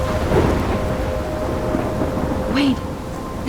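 A thunderstorm in the game Life Is Strange: dense, loud rain and rumbling thunder roll steadily in a wild coastal storm near a lighthouse, with a brief brighter crack near the end.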